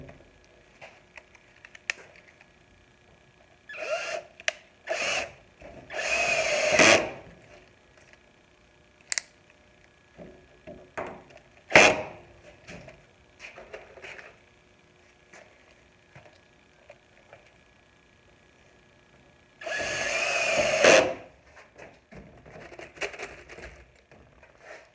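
A power drill drives 8 by 1.5 screws into wood while a grow closet is built, whining in a few short, separate bursts between quiet gaps with small clicks and handling noises.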